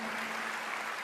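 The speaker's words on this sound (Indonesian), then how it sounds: "Yang setuju berikan tepuk tangan yang meriah buat Tuhan." A church congregation claps together during a sermon, a dense, even wash of applause that holds steady without a break through the whole moment.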